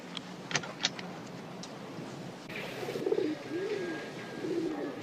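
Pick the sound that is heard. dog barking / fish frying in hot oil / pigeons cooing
pigeons cooing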